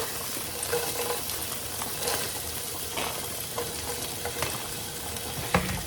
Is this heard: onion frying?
yes